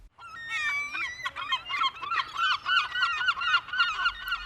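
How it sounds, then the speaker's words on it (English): Seabird calls in a staged audio play, a busy chorus of repeated honking, squawking cries layered over one another at moderate volume with no voices. "As the gulls would soar and cry"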